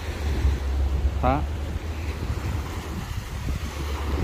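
Sea waves wash onto a beach in Phu Quoc in a steady surf roar mixed with wind buffeting the microphone, and a voice speaks briefly partway through.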